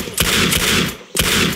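Rapid bursts of gunfire in a video game, two loud broadband volleys separated by a brief gap, close and dense like automatic weapon fire.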